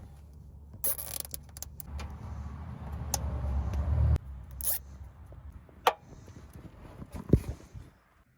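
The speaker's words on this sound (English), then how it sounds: "I finished zip tying the backup camera to the wire harness underneath the car" Zip ties ratcheting tight on backup camera wiring under a 2001 Ford F150: a few quick, sharp zipping bursts separated by quiet handling clicks and rustles, close up and moderately faint.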